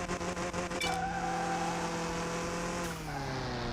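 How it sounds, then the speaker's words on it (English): Turbo blow-off valve whoosh from a car in Car Mechanic Simulator 2021, a short hiss burst riding over a steady engine drone with harmonic tones that drop in pitch near the end, no talk. "Oh, the blow-off. You gotta love it."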